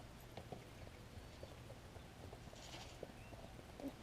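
Horse hooves walk through a riding arena, soft irregular clip-clop steps that sound faint and somewhat distant over low background noise.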